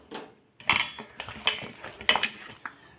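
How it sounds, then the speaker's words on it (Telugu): Chicken pieces are mixed with salt and turmeric in a metal bowl, giving clinks and scrapes of utensil against dish in irregular bursts, close and moderately quiet with no speech. "కొంచెం ఉప్పు, కొంచెం పసుపు వేసి శుభ్రంగా కలిపేయాలి"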